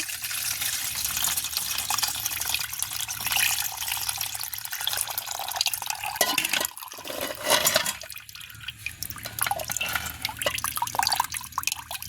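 Liquid strained off while making wheat halwa, a continuous close splashing and pouring with drips, steady for several seconds with brief changes in flow and no talking.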